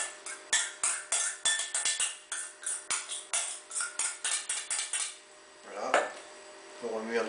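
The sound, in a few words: stirring spinach and feta mixture with a utensil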